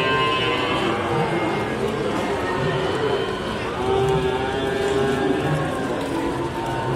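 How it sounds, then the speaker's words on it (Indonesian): Simmental cattle at the Ambarawa livestock market in Semarang, with lowing and moos amid a busy crowd murmur and someone talking. "Wah, di sebelah sana ada sapi simental super teman-teman."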